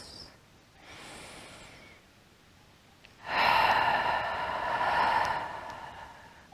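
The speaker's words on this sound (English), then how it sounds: "you take a couple of deep breaths" Slow, deep breathing during a yoga meditation: a soft inhale followed by a longer, louder exhale, close and alone with no talking.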